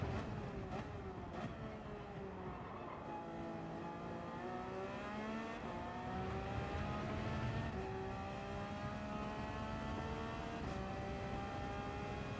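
Ferrari race car engine in a racing video game, a steady high whine with rising and falling gear tones, continuous and moderately loud throughout with no talk.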